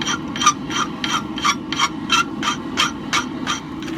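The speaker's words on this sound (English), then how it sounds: "Now I just need to take a good sharp half round file and dress up this clip point real good." A sharp half round file dresses the hot clip point of a hand-forged steel knife blade, with a steady rhythm of about a dozen close, even rasping strokes and no talk.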